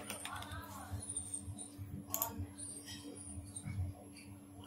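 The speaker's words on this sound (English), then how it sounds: "click on this one and type the password" Soft, quiet keyboard keystrokes as a Wi-Fi password is typed into a Raspberry Pi 4 running ChromiumOS. A few scattered clicks sit low in the mix under faint room noise and a quiet voice.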